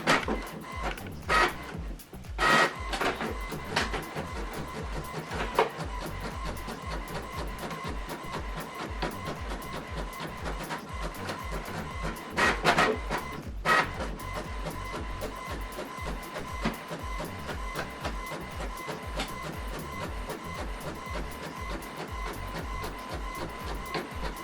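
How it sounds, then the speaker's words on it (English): Printer running a document sent from a laptop, a continuous mechanical whirring and rattling with periodic louder feed clunks near and clear, no talk. "Now this document is printing."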